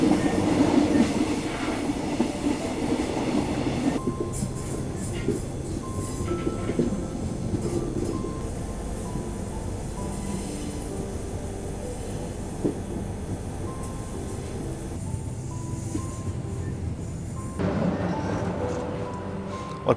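A train rolls steadily through dense Malaysian jungle, its continuous rumble and rail clatter loud and close for the whole stretch, with the sound briefly thinning and shifting partway through before returning at full strength.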